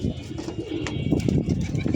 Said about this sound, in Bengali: কবুতরগুলো উড়ে নামুক, আপনাদের সবার উদ্দেশ্যে এই যে নামতেছে